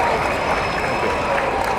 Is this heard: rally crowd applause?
yes